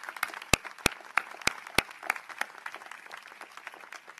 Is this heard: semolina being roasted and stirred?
no